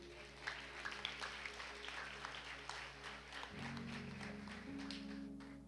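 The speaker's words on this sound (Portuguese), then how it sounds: "Você pode aplaudir o nome do Senhor Jesus?" Congregation applause during a church celebration service: continuous, moderately faint patter of many hands clapping over a low sustained instrumental hum that rises partway through.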